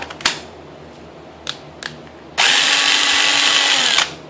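A DeWalt impact gun is tested after a teardown: a few close clicks and short trigger blips, then a loud, steady high-pitched whirring run of about two seconds that cuts off sharply.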